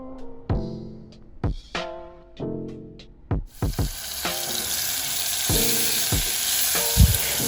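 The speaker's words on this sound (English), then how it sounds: "you want to make sure that you're stirring up the butter so that it doesn't clump" Butter with green onions being stirred in a pan: ringing metallic taps and scrapes at first, then a strong continuous sizzle that starts midway and keeps going under further stirring strokes, close and loud.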